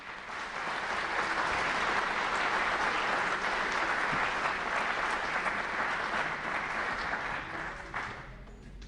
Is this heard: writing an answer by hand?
no